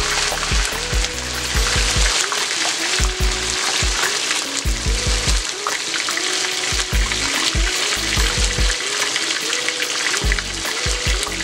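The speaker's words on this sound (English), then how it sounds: "I'm just going to place it in the oil. Let it simmer down just a little bit before I drop it all the way in." Whole red snapper frying in hot oil in a pan that is too small for it, Thai style, with a loud, steady broadband sizzle throughout and repeated low bumps that sound like handling of the pan.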